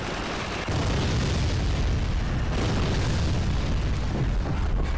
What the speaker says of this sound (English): So we're going to fire some rocket barrages to keep them honest.